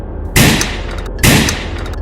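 Two loud, sharp gunshots about a second apart, each a sudden blast with a short ringing decay, in a Nigerian action movie scene.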